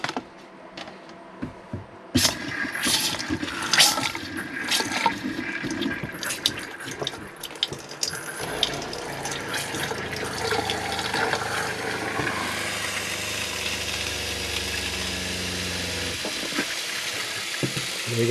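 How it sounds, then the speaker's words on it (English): Faucets in a Coachmen Nova 20C RV being opened during winterization, water starting with a gurgle and sputter and then running steadily as a continuous rushing flow for several seconds, close up with no talk. "We'll go ahead and turn on the"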